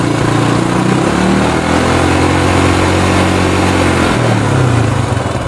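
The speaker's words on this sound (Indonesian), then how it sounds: "kalau di gas ini RPM-nya naik" A Yamaha Mio scooter engine runs loud and close, its throttle opened so the revs rise and fall in a steady droning buzz with no voices.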